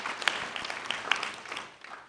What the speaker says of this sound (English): Please, let's give a round of applause to UBA